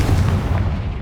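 A Confringo blasting spell cast in the game Hogwarts Legacy, a short, heavy booming blast with a deep low-end thump that slowly decays.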